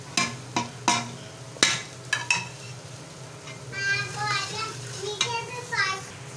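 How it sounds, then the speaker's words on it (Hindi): Masala for daleem fries in a pan while a spoon stirs it, giving sharp scraping clicks against the metal over a low sizzle, with faint voices in the background. "इसको हमने 2 मिनट भूनना है इसकी स्मेल ख़त्म करने के लिए"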